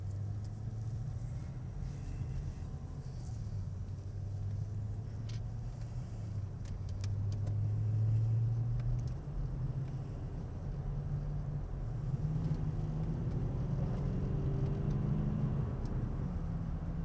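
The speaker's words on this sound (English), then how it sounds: "Do like the sound of a nice V8." A V8 car engine runs and is heard from inside the cabin as a steady low droning rumble that rises and falls gently, with road noise underneath and no talking.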